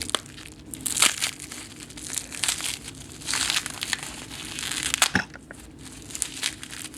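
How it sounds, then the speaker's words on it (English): Crinkling and crushing of tightly wrapped cellophane around plastic-covered foil packaging from a 2002 RAF Emergency Flying Ration Mark 9, heard up close in irregular loud bursts of crackle and a few sharp tears, with no speech. "It's wrapped in cellophane tightly."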